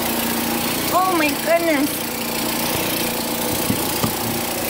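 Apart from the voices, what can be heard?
snow blower running outside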